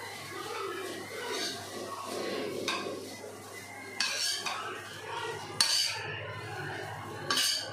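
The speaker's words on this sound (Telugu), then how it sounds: "మంచిగా కలపాలి" A metal spoon mixes four fried eggs into a dish, scraping and clinking against the pot in an uneven, close rhythm, with a few louder knocks.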